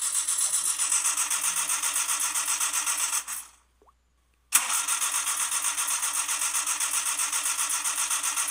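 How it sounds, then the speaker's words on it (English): A car engine is cranked and fails to catch, a steady rapid whirring grind that goes on for about three seconds, cuts out briefly, then resumes just as evenly and loudly, with no talk over it. "Hello, my car won't start."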